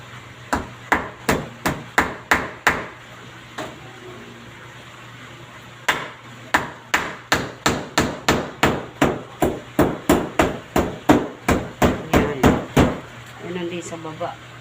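Steady hammer blows drive a nail into wood during carpentry work, loud and close, in quick rhythmic bursts of sharp knocks separated by a short pause, with a brief voice near the end.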